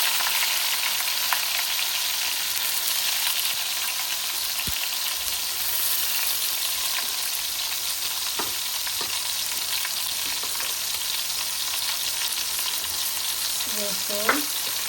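Onion paste sizzles hard in hot oil with garlic fried until burnt, the base for a tengra fish curry with tomato and potato; a steady close frying hiss runs throughout, with occasional light stirring clicks and no talk.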